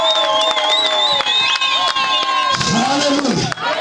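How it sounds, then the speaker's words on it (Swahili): Church congregation at a gospel crusade meeting clapping with high ululations and cheering, a dense crowd sound with sharp claps throughout and shrill trilling voices rising over it. "Hebu nimependa ungempa makofi na vigelegele huyu Yesu."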